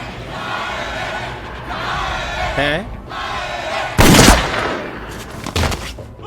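Gunfire in the zombie anime Highschool of the Dead, with loud, sharp shot bursts, one especially heavy, breaking through a noisy crowd and shouting voices.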